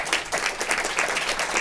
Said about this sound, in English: Let's have some applause for our speakers.